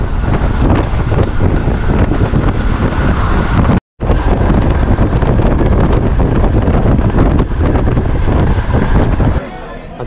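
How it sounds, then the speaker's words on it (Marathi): Wind rushes in through a moving train, a loud continuous buffeting roar that briefly cuts out, with a voice faintly underneath. "वारा येतोय ट्रेन चालताना म्हणून काय वाटत नाही"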